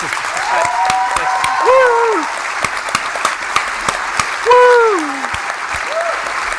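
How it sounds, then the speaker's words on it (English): A room of people at a Tony Blair Institute event claps, whoops and cheers, with dense applause carrying rising and falling whoops and shouts across it. "This is literally this whole room of Blair sycophants clapping, whooping and cheering"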